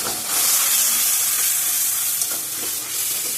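Ground coriander and cumin paste loosened with water sizzles and hisses loudly in hot oil previously used to fry fish, cauliflower and potatoes, a steady close frying roar with faint stirring.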